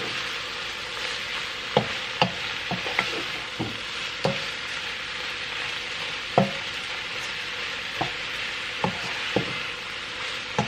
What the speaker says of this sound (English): Now I'm going to mix everything in.